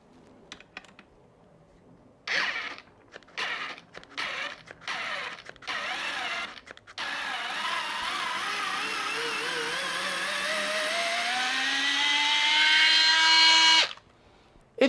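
A Fanttik electric screwdriver backs a screw out, opening with a few clicks and short bursts of motor whir, then settling into a long, loud, steady whine that slowly climbs in pitch before stopping abruptly.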